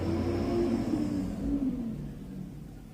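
A garbage truck rolls past a house with a low engine rumble and whir, loudest at first and then fading as it moves away, with no talk over it.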